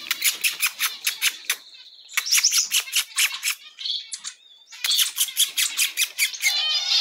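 Exotic birds in an aviary chirp and squawk in rapid, shrill, repeated bursts, loud and close, with several overlapping calls that pause briefly and then resume.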